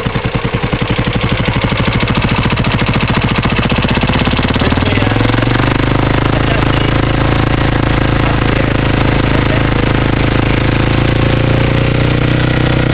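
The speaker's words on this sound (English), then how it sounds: "You hold the clutch in one hand, start the engine, and it'll take you a couple minutes." A Suzuki GZ250 motorcycle engine cranks and catches, then settles into a loud, steady idle that runs alone for over ten seconds.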